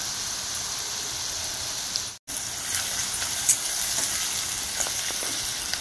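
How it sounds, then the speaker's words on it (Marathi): Chopped onion sautéing with a pinch of asafoetida in a pan, a steady bright sizzle with a very brief drop-out near the middle, then continuous frying crackle with a few small pops. "कांदा थोडा परतून घेऊया।"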